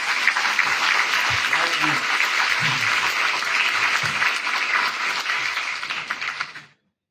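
A church congregation applauds strongly in praise during a service, sustained loud clapping with a few voices underneath, ending abruptly near the end.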